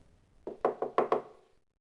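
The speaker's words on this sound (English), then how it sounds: "He knocked again." Five quick, hollow knocks on a wooden door in an uneven rhythm, close and clear, followed by silence.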